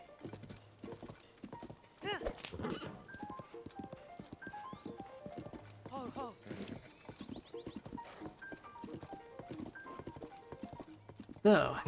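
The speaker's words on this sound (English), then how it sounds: "So we're just going to be riding on the path." Horse hooves clop along a path in Zelda: Tears of the Kingdom, ridden toward a Skyview Tower. The clopping is lighter and intermittent, mixed with bright chiming melodic tones and a faint voice in places.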